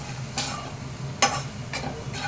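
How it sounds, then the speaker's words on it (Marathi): Turmeric is stirred in hot cold-pressed oil in a pan while cooking a dry cabbage dish, giving three or four soft scraping strokes over a faint steady sizzle. "हलवत राहणं अतिशय महत्त्वाचं आहे कारण ते जळून जाऊ शकतं"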